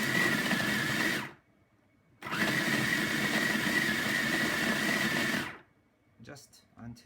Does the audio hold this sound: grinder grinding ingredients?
yes